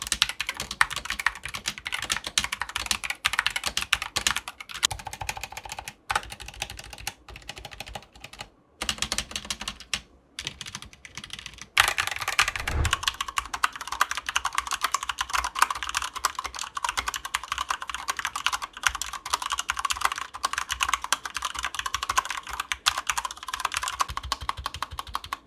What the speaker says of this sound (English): I'm dropping a sound test for you guys right now with those Cherry MX red switches that I have on my board